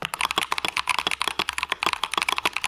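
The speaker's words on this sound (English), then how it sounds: "that one sounds like an old keyboard" Rapid, steady clacking of mechanical keyboard keys, close and crisp, with many quick keystrokes in a continuous typing rhythm and no talking.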